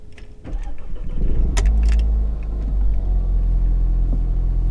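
A Mercedes CLA idling with its exhaust valve closed, heard close to the tailpipe as a deep steady rumble that starts with a brief clatter and settles into a low even drone.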